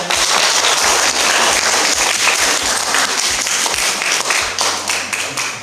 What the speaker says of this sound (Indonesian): Wah, tepuk tangan juga sudah ada.